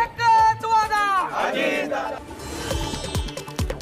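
Party workers of the Ajit Pawar faction celebrating in Katewadi, a crowd cheering and shouting together, loud and close at first, then a steady mixed roar with sharp bangs toward the end.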